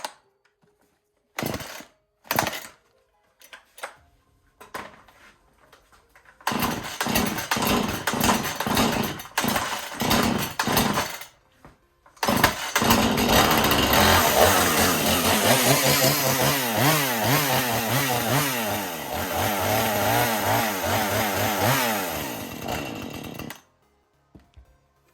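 Husqvarna 435 X-TORQ chainsaw pulled over with a few sharp tugs, then catching and running in loud bursts before roaring into a long, sustained rev with wavering engine pitch, close by and with no talking.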